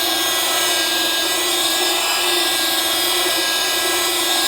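Rupes LHR19E rotary polisher running at slow speed, a steady close whirring hum with a gritty, rubbing texture from the pad working across a surface, continuous with no pauses or voices.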